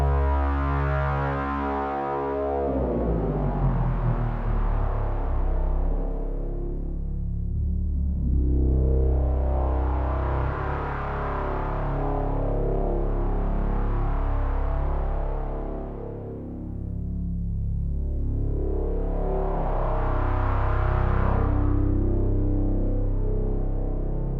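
A dense synthesizer drone from LFO modulation on a modular synth slowly swells and recedes in long sweeping waves, heavily washed in reverb, sustained for the whole stretch with no voices.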